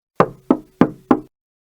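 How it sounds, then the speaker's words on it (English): Four firm knocks on a door, evenly spaced and close, each a sharp hollow thud that dies away quickly, followed by silence. "I knocked."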